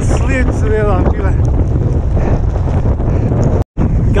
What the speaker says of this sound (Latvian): Vējš 60 km stundā.